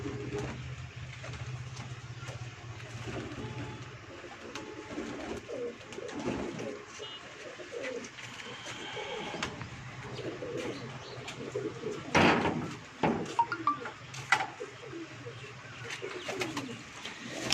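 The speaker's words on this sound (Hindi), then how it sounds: "माशाल्लाह बहुत ही आउट क्लास परिंदे हैं जनाब" Breeder pigeons on a rooftop loft coo softly and steadily, joined by faint chirps and a few louder flutters and knocks in the middle, with a low background hum.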